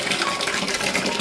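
Water runs from a newly installed tap at a bahay kubo, a steady close splashing gush that continues without pause.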